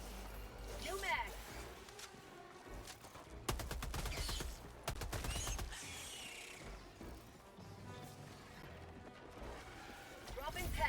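Video game gunfire crackles in bursts and volleys, with sharp reports and mechanical clatter layered over a dense battle din while a voice talks throughout.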